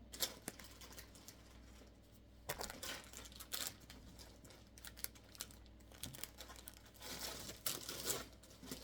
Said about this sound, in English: So you're going to hear crinkling. Crinkle, crinkle.